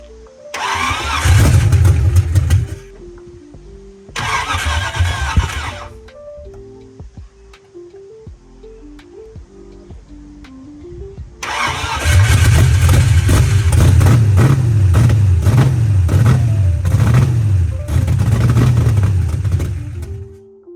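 An LS-swapped Hyundai Genesis Coupe with a crank sensor fault cranks loudly in three long bursts, the engine churning but never catching, separated by short pauses where only a faint hum remains.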